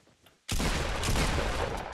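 Dense gunfire from Fortnite Battle Royale bursts in after a brief quiet moment, then holds as a loud, continuous close-range barrage.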